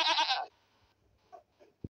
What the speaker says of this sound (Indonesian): wow, ada kambing teman-teman.